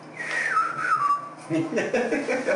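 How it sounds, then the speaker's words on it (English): Someone whistles the Bridge on the River Kwai melody up close, a clear sliding tone followed by shorter, choppier notes, with faint background noise. "He's whistling it."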